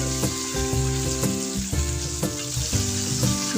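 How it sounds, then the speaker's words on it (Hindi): Cauliflower pieces frying and being mixed in a pan for aloo gobhi: a steady loud sizzle with repeated scraping strokes of a spoon roughly every half second, close up and without voices. "गोभी को भी अच्छे से 2 से 3 मिनट भूनना है मिक्स करके"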